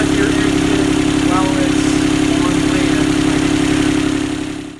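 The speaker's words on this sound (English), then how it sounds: "we ran the engine for about 25 minutes maybe" A Universal 25XPB marine diesel on a Catalina 30 sailboat runs on land, with a steady loud idle whose rhythmic chug holds evenly throughout and fades at the very end. Faint voices sit in the background.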